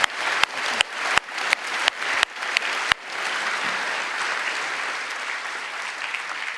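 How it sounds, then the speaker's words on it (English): A conference audience at KotlinConf applauds a closing panel, a few sharp individual claps first, then a steady, full wash of crowd applause that carries to the end. "Give another round of applause."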